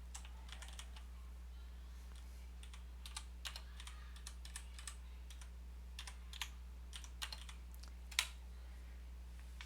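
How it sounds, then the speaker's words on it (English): Typing on a computer keyboard, likely a custom knob-equipped board, heard as scattered, irregular key clicks at moderate distance over a steady low electrical hum, with no talking. "let's type it"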